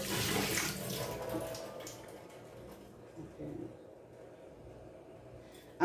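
Water being poured off soaked sea moss in a kitchen, a soft splashing trickle that is loudest at first and then thins to quiet dribbles, with a brief louder knock at the end.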